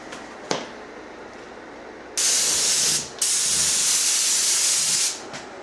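A spray gun lays down a final clear gel coat mixed with a wax additive on a boat repair, hissing in two loud sustained bursts with a brief pause between, preceded by a faint click.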